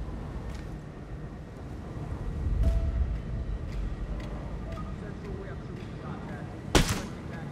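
Sniper rifle shot in the tactical shooter Ghost Recon Breakpoint: one sharp, loud crack near the end, after a long stretch of low outdoor rumble and scattered faint clicks.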